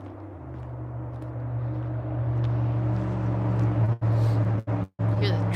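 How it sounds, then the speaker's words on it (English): Road traffic rumbling steadily in the distance during an outdoor winter walk among trees, a low continuous drone with a few brief dropouts near the end. "Hear the traffic going by in the distance."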